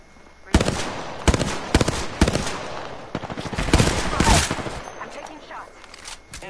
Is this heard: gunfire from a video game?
yes